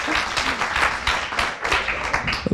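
Dense applause rolls on from an audience at a 2015 radio fair greeting a radio columnist, sustained clapping with slight surges and a voice faintly beneath it.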